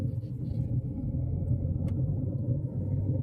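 A car engine drones with a steady low rumble while driving and shifting into third gear, close and continuous, with a brief click partway through.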